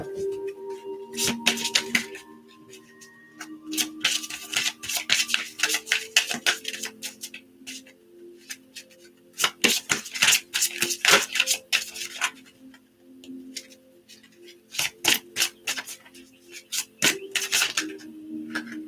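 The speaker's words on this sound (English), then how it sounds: "I'll shuffle for you on camera." Tarot cards shuffled by hand, a run of crisp clicks and riffling bursts repeating in uneven clusters over soft background humming tones, close and moderately loud.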